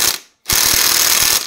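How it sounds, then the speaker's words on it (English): Impact wrench driving top-end bolts on a 2-stroke engine, two loud sustained rattling bursts split by a short silent gap, close up with no talk. "I'm going to do this with my impact."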